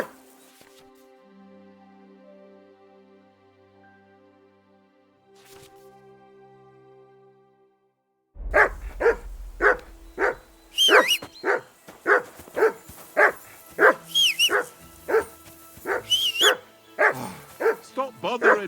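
Dog barking in the medieval role-playing game Kingdom Come: Deliverance II, a rapid run of about a dozen loud, close barks in steady rhythm after a quiet stretch of faint ambient music.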